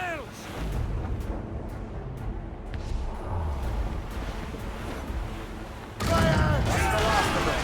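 Ship cannon fire and a gun volley in Assassin's Creed Rogue: a dense rolling barrage of booms and crackling shots at sea, swelling louder near the end, with shouted voices mixed in.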